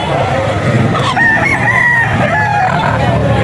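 A young stag rooster crows amid a busy pet market, its drawn-out call rising over a loud, constant hubbub of crowd noise and nearby chatter.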